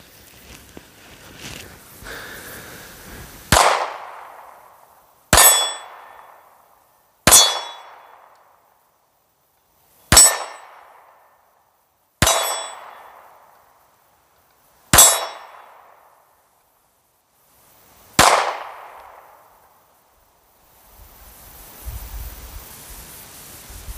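Pistol shots strike steel targets outdoors in Montana, heard as seven sharp metallic clangs that ring out and decay, spaced a few seconds apart and loud against quiet background.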